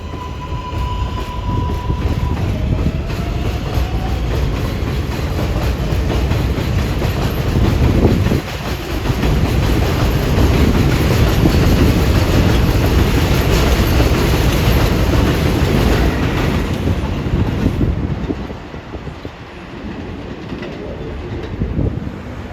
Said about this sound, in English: An eastbound local departing.